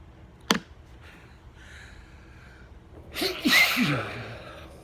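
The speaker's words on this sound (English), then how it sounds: "Some nice big sneezes for you." A sharp click, then a loud, close sneeze near the end with a quick inhale and voiced burst, after taking McChrystals Glacier nasal snuff.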